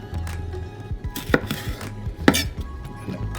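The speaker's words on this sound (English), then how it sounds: "cut your slices out of the middle" A knife slicing vegetables for a village-style Greek salad on a board, a rapid series of close, dull taps with two sharper, louder knocks.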